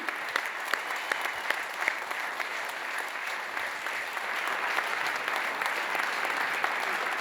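An audience applauds after a performance of an original musical work, steady dense clapping from a crowd, moderately loud and continuous.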